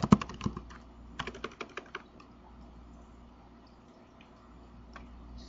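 Computer keyboard keys clatter as a SQL query is typed into an Oracle database prompt: a quick burst of close, crisp keystrokes at the start, a second shorter run a moment later, then near-silence with only a stray click.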